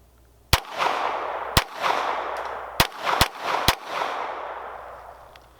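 GSG 1911 .22 pistol fires five sharp shots at an outdoor range, irregularly spaced over about three seconds, each crack followed by a short ringing echo.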